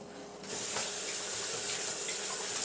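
Water from a kitchen sink faucet runs for hand washing after shaping veggie burger mixture, a steady hissing gush that switches on about half a second in and continues evenly, close and alone without talk.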